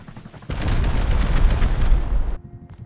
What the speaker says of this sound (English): Okay, rockets, rockets, rockets.